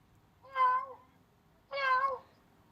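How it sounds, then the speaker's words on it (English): A cat meows twice, each call clear, fairly close and separated by a second of quiet, with a faint low background hum. "That is Bluebell the cat."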